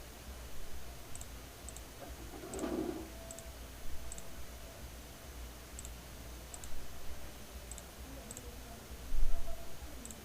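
Computer mouse clicks while drawing a relay module circuit in Proteus simulation software, faint, scattered single clicks spaced a second or so apart over a quiet room hum, with no talking.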